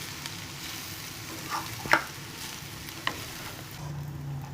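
Chicken fried rice being stirred and tossed in a pan, a steady sizzling fry with a few sharp scrape and clatter accents from the spatula, close and fairly quiet with no talk.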